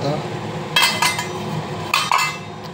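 A lid goes onto a pan of cabbage on a medium flame, with a few metallic clanks and clinks in two short bursts over low kitchen background noise.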